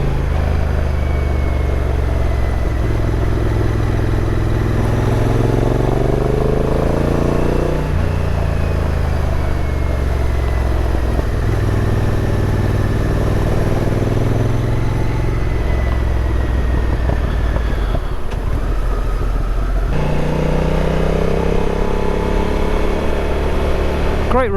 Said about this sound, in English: Pipework sounds fantastic down these lanes.